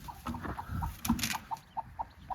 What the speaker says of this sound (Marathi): आता ही कोंबडी बघा